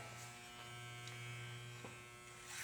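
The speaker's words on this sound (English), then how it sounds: "Now I'm just going to take this clipper over comb and I'm just going to blend right there." An electric hair clipper hums steadily as it cuts hair using the clipper-over-comb method to blend a haircut, giving a faint, continuous close-up buzz with no talking.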